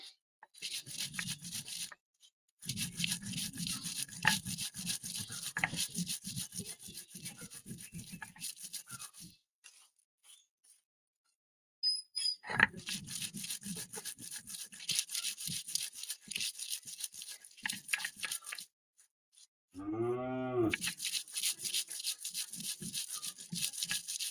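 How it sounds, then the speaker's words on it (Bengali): Cumin and chilies are ground into paste on a grinding stone, heard as rhythmic, close scraping strokes that come in long bursts separated by brief silent pauses. "আমি তাড়াতাড়ি করে মশলাটা বেটে নেবো"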